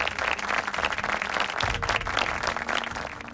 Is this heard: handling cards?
no